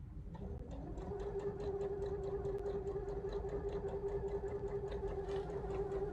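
A sewing machine runs steadily, stitching along a marked line on a mitered baby blanket, a close, even mechanical whir with a rapid rhythmic needle pulse and a constant hum, no speech.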